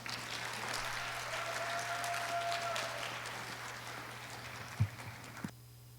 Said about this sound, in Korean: 그럼 우리 8기 학생들의 마지막 무대를 따뜻한 박수로 맞이하겠습니다.